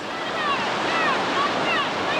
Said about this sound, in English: She rockets her way through the reactionary waves.